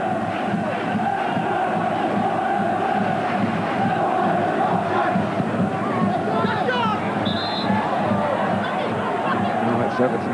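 A capacity football crowd of just over 10,000 at an FA Cup fifth-round match, Crewe Alexandra against Everton, keeps up a steady roar of chanting and cheering from Everton fans, dense and continuous throughout.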